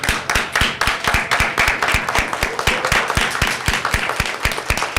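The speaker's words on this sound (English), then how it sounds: "please stand up and give them a round of applause for choosing to become scholars" Audience applause at a high school National Honor Society induction ceremony, a steady dense stream of many hands clapping filling the hall for the whole stretch, fairly loud and without talk.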